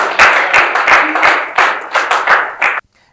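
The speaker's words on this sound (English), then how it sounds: "I want you to give them a rousing applause." A small community group claps in response to a request on a local news broadcast in Grenada, about a dozen distinct loud hand claps in uneven rhythm that stop abruptly.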